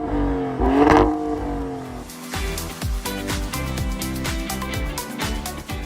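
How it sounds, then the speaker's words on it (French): A Maserati Grecale Trofeo in Corsa mode revs loudly up close, its engine and exhaust rising in a surge, then settling into a rhythmic run of sharp exhaust crackles and pops. "enclencher le mode Corsa, histoire d'avoir une conduite hyper sportive et d'entendre l'échappement pétarader."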